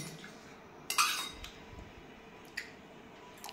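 A few soft, scattered clinks of a spoon against a pot as turmeric is stirred into dal, quiet and spaced apart over a low background hush.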